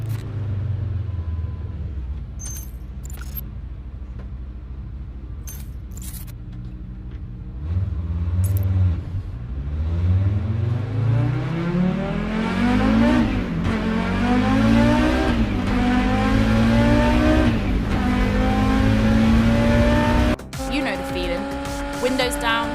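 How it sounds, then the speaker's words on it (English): A car engine revs hard and climbs through several gears while accelerating through a tunnel, the roar rising and echoing loudly off the enclosing walls, with a sharp break near the end. "Windows down, drop a few gears, floor it, feel the noise"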